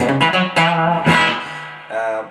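An electric Telecaster-style guitar through a TV Jones Filtertron bridge pickup plays a quick phrase of picked notes and a ringing chord, slightly driven and bright, close and loud with no talk.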